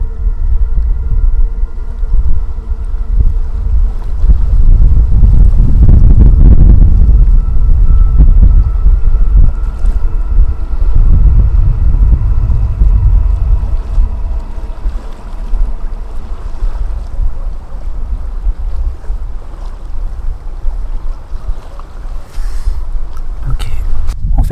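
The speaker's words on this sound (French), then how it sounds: "les bruits ambiants, le vent, et puis là, le claquement des vagues, c'est omniprésent" Wind gusts and waves slapping along an outdoor shoreline, a steady low rumble of moving air and water that swells loudly around the middle, then settles into a continuous wash.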